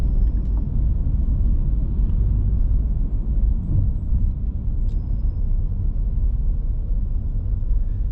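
A car drives around the Macau Grand Prix street circuit in 2021, giving a steady, continuous low engine and road rumble close by with no breaks, and a few faint higher whines and ticks layered over it.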